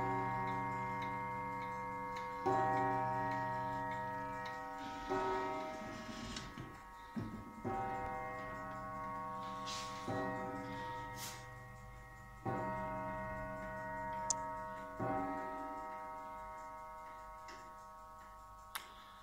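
A Junghans pendulum clock with a gong in a faceted glass case strikes resonant, ringing chimes roughly every two and a half seconds. Each tone decays slowly, and soft ticking continues steadily between the strikes, close and quiet.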